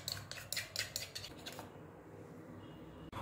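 A metal spoon lightly taps and scrapes against a plate while rounding freshly made mango coconut burfi, a quick run of clinks followed by quieter soft scraping, close and alone.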